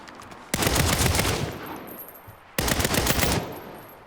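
Two loud bursts of rapid automatic gunfire from the game Saints Row with sharp bullet impacts louder than the gun, each lasting about two seconds, close and harsh.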